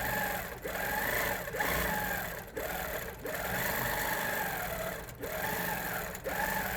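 An HQ Avanté longarm quilting machine stitches a quilt with a steady, fast mechanical hum, its motor pitch swelling and dipping in repeated arcs as it moves, with short pauses between passes.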